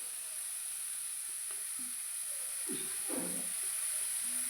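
Grated carrots frying in a pan for carrot halwa, giving a steady soft sizzle throughout with occasional faint stirring scrapes, close up and with no talking.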